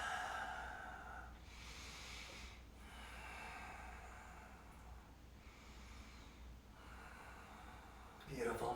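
Slow, deep breaths during a chair yoga flow in extended side angle pose, long airy exhales and inhales repeating in a calm rhythm, close and soft.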